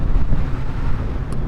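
Wind buffets the microphone of a rider cruising on a Kawasaki Z900RS motorcycle, a loud, steady, low rumbling roar with gusty fluctuations and no voices.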